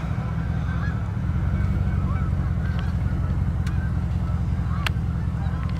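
Geese and other water birds on the water in Iowa honk in a busy flock at a distance, their calls layered over a steady low engine rumble.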